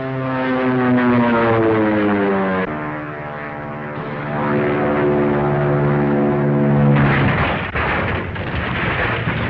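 A propeller airplane drones loudly and steadily at a flying school, its engine pitch sliding downward, then holding and rising again as it passes close by, with no talk over it.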